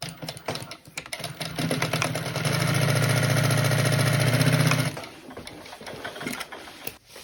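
A sewing machine stitches a bag gusset to the bag bottom with a 1 cm seam allowance, a close, loud, steady motor hum lasting about two seconds amid lighter handling noises before and after.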